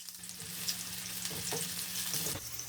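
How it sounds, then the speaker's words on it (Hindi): Thinly sliced medium onion frying in hot oil until browned, a steady close sizzle with soft stirring scrapes and no voices. "प्याज को हम ब्राउन करेंगे।"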